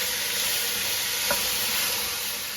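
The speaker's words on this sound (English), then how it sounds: "we've been sauteing our onions and peppers here for about 5 to 7 minutes" Onions and peppers sautéing in a pot for a spicy Italian sausage chili, a steady soft sizzle with one brief stir clink in the middle, no voices.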